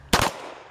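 A single sharp, loud gunshot from a P38 9mm Luger pistol cracks close by and then fades quickly in a short echo.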